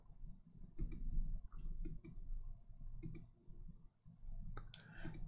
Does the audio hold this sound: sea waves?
no